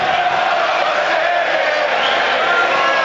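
A football stadium crowd at a Mansfield match against Hartlepool roars steadily, a dense, loud, continuous wall of cheering and shouting with no breaks.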